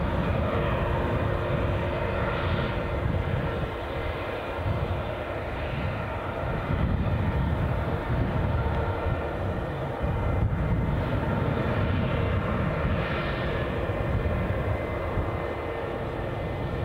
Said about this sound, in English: we're watching our British Airways A321 Heathrow arrival